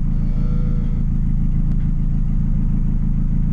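Nissan S14 drift car sitting at idle, a loud steady low engine rumble with an even pulsing rhythm, close by, no voices over it.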